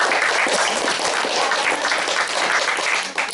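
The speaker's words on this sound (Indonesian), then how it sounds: "Berikan aplaus dulu untuk kelompok 3." Steady, dense applause from a classroom group honouring Group 3 after their presentation on silage preservation of livestock forage, sustained at an even loud level for a few seconds.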